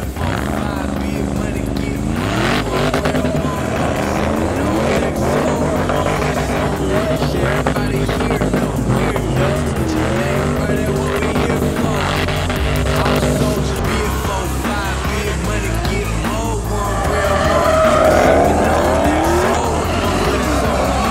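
At a roadside street sideshow, a boosted car does a burnout, its engine roaring hard and tires squealing continuously for about twenty seconds. Crowd noise and voices sit underneath, loudest near the end.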